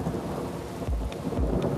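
Thunder rumbles deeply twice during a thunderstorm, with steady rain hissing throughout.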